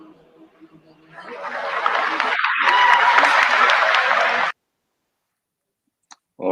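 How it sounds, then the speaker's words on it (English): An audience breaks into clapping that swells over about a second, holds as a dense, fairly loud burst of applause for roughly three seconds, then cuts off abruptly, followed by silence. "All right, guys, claps."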